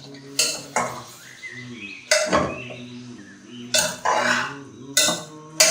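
A utensil clinks and scrapes against a bowl while churro ingredients are mixed, with garlic and ginger just added. About five sharp knocks come at uneven intervals, close and moderately loud, with softer scraping between them.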